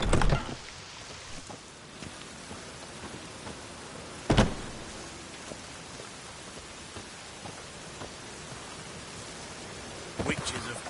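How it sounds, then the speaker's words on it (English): Rain falls in the video game The Witcher 3, a steady, even hiss of downpour that runs the whole time. A few sharper gusts or splashes rise briefly at the start, the middle and near the end. "Witches have conjured rain again."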